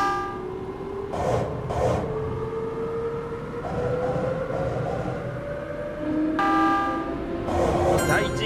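A train pulls away in the Densha de GO! arcade game on the Chuo-Sobu local line from Iidabashi toward Akihabara, with a rising motor whine under rumbling rail noise and brief bursts of electronic chimes.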